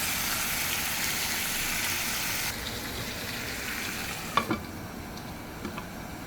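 Chicken curry with spices stirred in a pan, a continuous sizzle and frying hiss that drops in level partway through, followed by a few sharp metallic clinks, with no talking.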